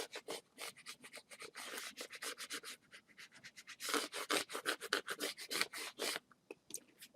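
Cricut vinyl decal burnished by hand, a rapid series of dry rubbing and scraping strokes at an uneven rhythm, close and fairly soft, with short pauses and no speech.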